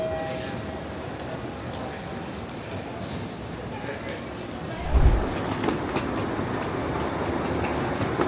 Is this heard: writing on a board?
no